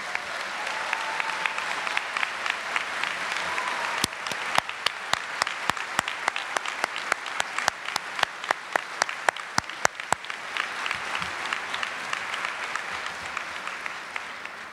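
Steady applause from a large audience welcoming new faculty and staff at a university address, with a run of sharper, evenly spaced claps standing out close by through the middle before the crowd sound carries on.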